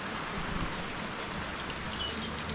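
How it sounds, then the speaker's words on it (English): Steady rain from Cyclone Kirrilly, on its nineteenth day of nonstop falling, hisses evenly and fairly close with no breaks, with no voices over it. "Today is day 19 of raining constantly,"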